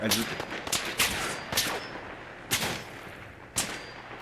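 Enemy gunfire in the video game Fallout 4 with a louder-weapons mod: several sharp, loud shots land at irregular intervals over a steady background of game noise, with no talking.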